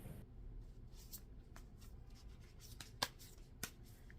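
Cards from a large, heavy Bhagwat Geeta tarot deck are shuffled quietly at close range, soft riffling and sliding with a couple of sharper snaps near the end.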